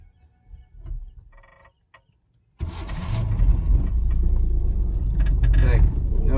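A car engine cranks and catches during a driving lesson, a sudden loud rumble that starts after quiet talk and then holds steady as a close, continuous idle.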